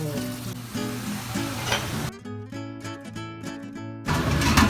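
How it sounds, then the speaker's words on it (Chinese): Winged beans and king oyster mushrooms being stir-fried in a pan, a close, continuous sizzle with brief stirring scrapes and a short quieter stretch before the frying noise swells again. "翻炒一下"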